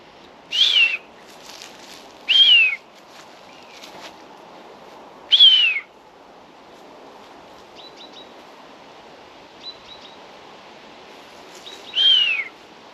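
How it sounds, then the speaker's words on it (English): Four loud, high mewing calls ring out from a bird of prey at spaced intervals, each a short descending cry over a quiet outdoor background. "you can hear the buzzard"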